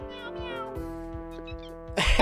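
Cat character meowing in the Toontown: Corporate Clash video game, a drawn-out, tonal meow held for about two seconds over steady game sounds, ending in a burst of noise.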